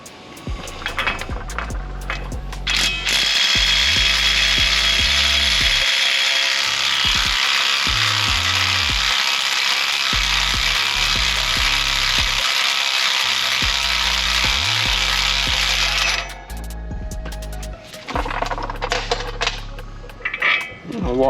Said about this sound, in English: We need to take this nut off, that way we can push it free of the hub.